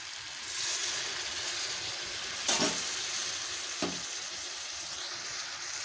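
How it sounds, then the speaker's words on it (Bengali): Peas sauté in mutton fat for ghugni, giving a steady close sizzle with two brief louder scrapes of stirring. "যতক্ষণ মটরটা সেদ্ধ না হয়েছে ততক্ষণ কষতেই থাকবো।"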